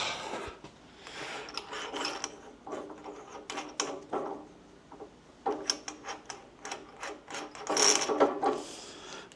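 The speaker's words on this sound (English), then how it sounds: "Let's go for the full size 10mm drill, see how it comes out." A 10mm bit in a hand drill grinds and ratchets through metal in uneven, scratchy bursts, close and fairly loud, with short pauses between turns.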